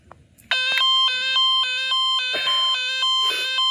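A Star Impex toy ambulance's electronic siren wails loudly in a steady, repeating two-tone up-and-down pattern, starting abruptly after a brief quiet moment and continuing to the end.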